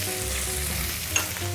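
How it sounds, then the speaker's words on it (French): Veal sweetbreads fry in oil and butter in a pan, giving a loud, close, constant hissing sizzle with a faint clink partway through and no talking. "nous allons mettre à poêler nos riz de veau avec un petit peu d'huile"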